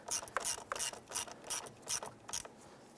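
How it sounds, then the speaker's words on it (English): Hand ratchet snugging down a car battery terminal bolt on a 1995-2001 Ford Explorer, giving a rapid run of close, crisp pawl clicks in several short bursts with brief pauses between strokes. "I'm going to go ahead and snug this down."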